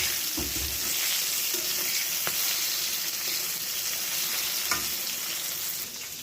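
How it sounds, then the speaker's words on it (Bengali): Eggplant slices frying in a pan for a breakfast of rice give off a constant, close hiss of oil, with a few soft knocks of stirring. "এখানে সকালে ভাত খাওয়ার জন্য বেগুন ভাজা বসিয়ে দিয়েছি।"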